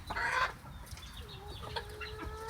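Chickens and roosters cluck close by in a barn with mice around, with a brief loud squawk at the start and then steady clucking at moderate volume.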